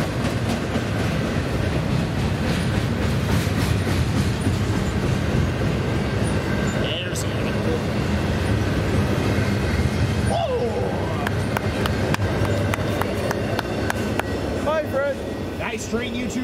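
A freight train hauling containers rolls past at West Colton in San Bernardino, a loud continuous rumble with rhythmic wheel clatter, scattered squeals and a sharp metallic screech partway through, while a voice talks over it.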